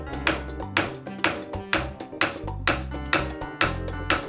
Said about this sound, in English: First, I have to knock out the old star nut.